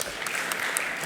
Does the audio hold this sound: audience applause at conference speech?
yes